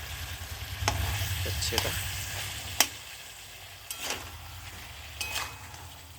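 Mutton sautéing (kosha) in a pan gives a steady close sizzle and frying crackle, with a few sharp stirring scrapes and clinks spread through it and a brief spoken word near the end.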